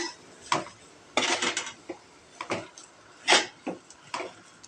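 A spatula clinks and scrapes against a pan while a ten-leaf greens stir-fry is mixed, in uneven bursts of close knocks and rattles with quiet gaps between.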